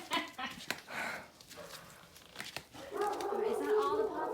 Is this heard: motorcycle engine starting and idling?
no